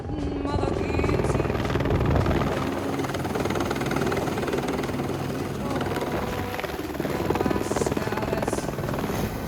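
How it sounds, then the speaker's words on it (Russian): Helicopter flying in the Langtang mountains of Nepal, a steady loud rotor thrum and engine drone filling the whole stretch, with faint voices underneath. "Это не наш вертолет."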